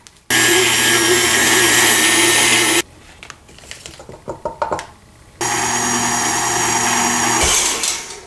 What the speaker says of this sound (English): Then we're going to add in 2 cups of powdered sugar at a time, blending after each addition.